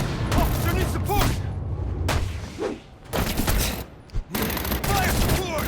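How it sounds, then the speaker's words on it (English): Dense gunfire crackles through a Batman Arkham Origins shootout, volleys of sharp shots overlapping with shouted voices and brief lulls between heavy bursts. "Contact! Firing on suspect!"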